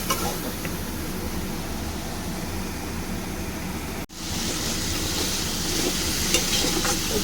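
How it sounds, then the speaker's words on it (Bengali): Potatoes, tomatoes and spices sauté in a pan for a bata fish curry, with a steady close sizzle and stirring that drops out briefly around the middle, then resumes. "ভালো করে কষিয়ে নিয়েছি। টমেটোটাও এর সঙ্গে একদম কষিয়ে নিয়েছি, নরম হয়ে গেছে টমেটোটাও।"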